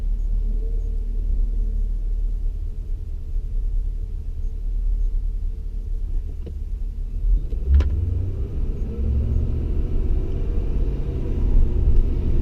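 Inside a Ford Crown Victoria on a casual test drive, a low steady road and engine rumble fills the cabin, with a couple of brief clicks and no speech.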